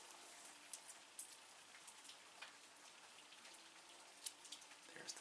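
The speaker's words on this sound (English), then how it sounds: "it's raining in the background" Steady rain falls outside through the whole stretch, a soft continuous patter with scattered sharper drips and taps, heard faintly at a distance.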